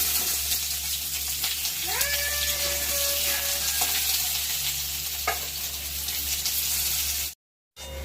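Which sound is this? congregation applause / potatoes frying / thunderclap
potatoes frying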